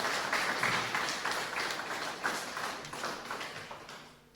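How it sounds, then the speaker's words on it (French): Scattered applause from a church congregation rises and fades, soft and somewhat distant, thinning out over a few seconds. "Est-ce qu'on peut donner un tonnerre d'applaudissements ?"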